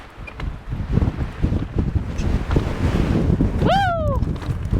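Strong wind buffets the microphone while riding trails near Richfield, Utah: a loud, steady, rumbling roar throughout, with a short whooping voice cutting through near the end.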